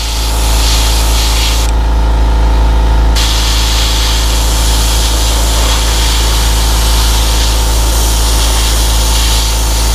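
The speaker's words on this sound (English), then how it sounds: "And I'm just gonna give this a general spray." An airbrush sprays a sepia, detail black and magenta paint mix onto a swimbait lure, making a loud, constant airy hiss with a brief change in tone partway through.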